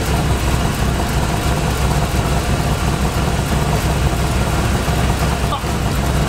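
Chevrolet Impala engine idling steadily after an intake manifold swap, a loud, even rumble running throughout with no breaks.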